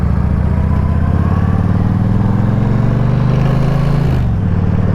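A Yamaha XV1700A motorcycle with baffles removed and an aftermarket intake rumbles loudly while riding, a continuous close engine drone with a rattling edge that shifts pitch as the revs change.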